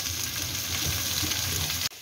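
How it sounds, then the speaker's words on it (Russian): Sweet peppers and coarsely chopped onion fry in a hot oiled pan, a dense, continuous close sizzle that cuts off abruptly at the end. "В разогретую сковородку с маслом у нас отправился сладкий перчик и крупно нарезанный лук."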